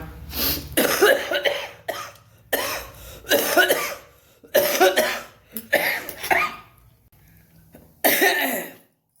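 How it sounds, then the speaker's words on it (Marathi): Heavy, harsh coughing in repeated bursts with short pauses between, close and loud, several coughs per fit. "असा जबरी खोकला लागलेला आहे"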